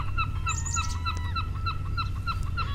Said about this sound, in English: Half fog, still harbor, low tide, gulls and seabird, and the hedgerows are alive with birds as well.